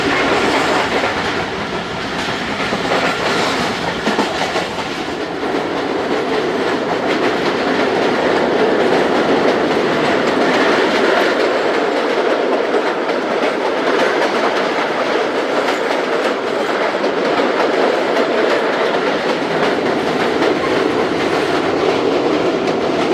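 The Jaffar Express runs between Peshawar and Lahore with a steady loud rumble of wheels on rails, heard from inside the AC business carriage as a continuous clatter with faint rhythmic clicks.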